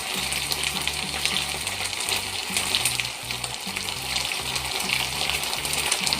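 Water pours into a pan of stir-fried honey garlic chicken wings, a steady sizzling hiss with a low bubbling undertone that holds loud and even throughout, no talking.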